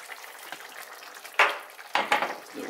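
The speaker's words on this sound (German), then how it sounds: "So, umrühren." A wooden spoon stirs a pot of quail bean stew with thyme just added, a steady low simmering hiss broken by two louder scraping, clattering strokes near the end, close and without talk.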